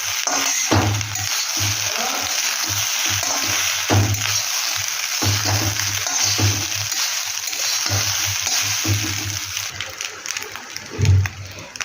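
Fried rice with fried paneer stirred and tossed in a pan: loud, close sizzling under repeated scraping and clinking strokes of a spoon, in an uneven rhythm, with no voices.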